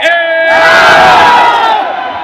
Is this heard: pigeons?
no